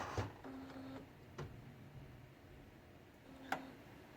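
An inkjet printer idles after its cartridges are swapped for ink cleaner, giving off a faint low whir with a few scattered soft ticks and clicks. It is quiet and nearby, with no voices.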